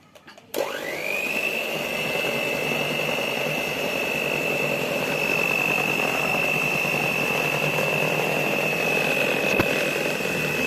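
An electric mixer beats orange cake batter with flour, starting abruptly and then running as a steady, loud, even whine with no talk.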